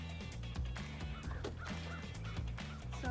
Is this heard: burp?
no